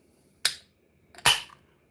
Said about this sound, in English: Crack one open if you can.